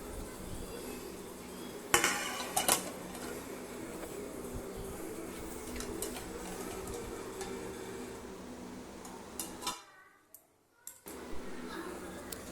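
A utensil scrapes and clinks against a cooking pot while egg kurma is stirred, with a few sharper knocks standing out over a low, steady bubbling. The sound drops out briefly near the end.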